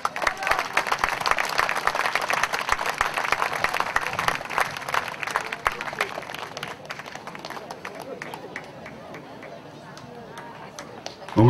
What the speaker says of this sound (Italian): Un grosso applauso